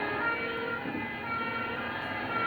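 A fire engine siren wails as the truck passes a bystander, a sustained tonal howl at moderate distance over road noise, its pitch sliding lower as it recedes.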